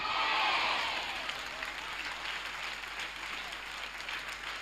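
A church congregation claps steadily for several seconds, loud at first and then easing to a sustained, even patter.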